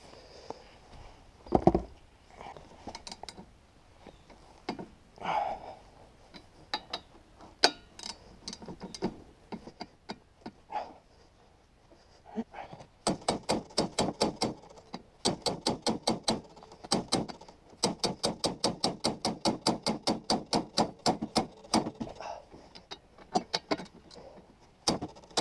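Metal hammering on a rotting 1970s Yamaha snowmobile, with sharp clanking blows coming in irregular bursts that speed up into rapid, steady strikes, close and fairly loud, without talk.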